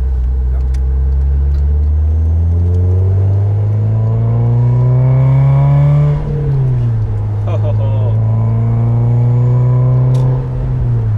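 An MG TF 135 roadster accelerating hard, its engine note climbing steadily through the revs, dropping at a gear change and climbing again, loud and close from inside the car, with occasional talk over it.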